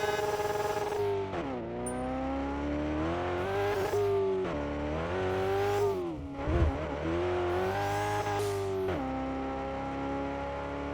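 A turbocharged race car in a racing video game runs hard around a track, its engine droning loud and steady with rising and falling revs through repeated gear changes, one brief dip and rumble midway, and no talking.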